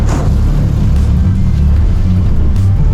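A car pulling away under more throttle on a driving lesson gives a loud, steady low engine drone close inside the cabin, with no talking over it.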